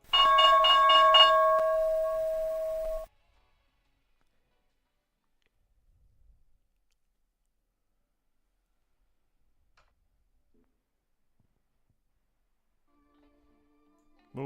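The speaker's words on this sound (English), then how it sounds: "Five seconds to go, opening bell." A loud, bright ringing tone sounds the trading market opening bell for live futures day trading. It rings steadily for about three seconds and then cuts off to near silence, with a small click much later.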